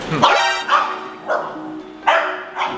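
A dog barks repeatedly, about five sharp barks spaced across the clip, fairly close and loud with a faint steady hum underneath.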